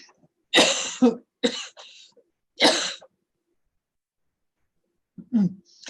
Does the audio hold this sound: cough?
yes